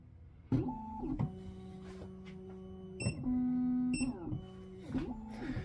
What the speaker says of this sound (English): Machine will just do a wee check to make sure the key is in the right location for it.